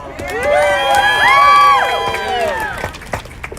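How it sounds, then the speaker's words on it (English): A political rally crowd at an anti-terror bill emergency action cheers and shouts loudly, with whoops rising to a peak mid-way and then fading into scattered voices. "a round of applause for John"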